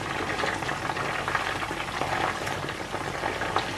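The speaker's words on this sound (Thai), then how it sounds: "มันกำลังทอดอยู่จ้ะ" Sesame-coated pork neck frying in hot oil, a dense, steady bubbling sizzle that stays loud and close throughout with no voices over it.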